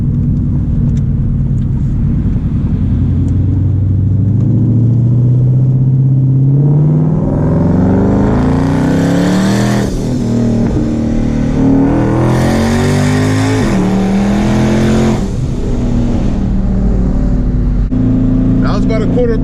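A twin-turbo 650 hp Ford Mustang 5.0 accelerates at quarter throttle, heard from inside the car with a loud, rising engine rumble through several climbing sweeps, and a voice speaks over it at times.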